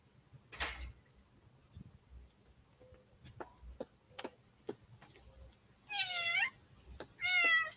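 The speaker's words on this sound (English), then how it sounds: "They're on their leashes and I can hear them meowing." Kittens on leashes outdoors give a few clear meows toward the end, preceded by scattered faint ticks and clicks in an otherwise quiet setting.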